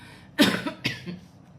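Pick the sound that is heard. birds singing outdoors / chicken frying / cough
cough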